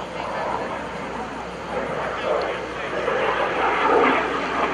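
L-39 Albatross jet flying aerobatics at an air show, a broad distant engine roar that swells and fades as the jet rolls, heard under talk.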